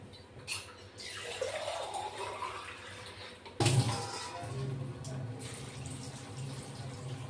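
A glass of water poured into a pressure cooker holding beans for boiling, a close splashing gush that settles into steady pouring and bubbling, with brief talk at moments.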